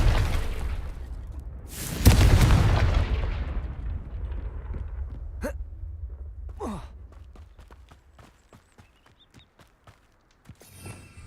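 A Confringo spell blast in a video game: one sudden loud booming burst that decays over a couple of seconds, followed by quieter scattered clicks and faint effects, with no talk.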